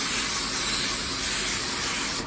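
A spray gun applying sealer onto a spray out card, a steady, close, loud hiss of atomized spray held evenly without pause, with no speech over it.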